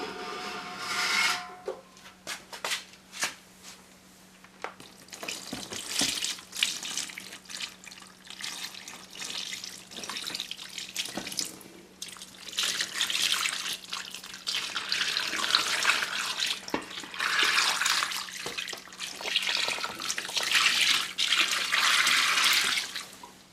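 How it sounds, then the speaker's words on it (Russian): Liquid for homemade varroa mite treatment strips poured into a container, a steady splashing and trickling stream that swells louder over the second half, with no talking. "Буду заливать его в емкость."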